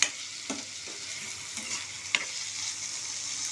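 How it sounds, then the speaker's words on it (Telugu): Garam masala paste going into an eggplant and raw chana dal curry as it fries in a pan: a steady close sizzle with several soft scraping stirs of a spoon. No talking. "గరం మసాలా పేస్ట్ కూడా వేస్తున్నానమ్మా"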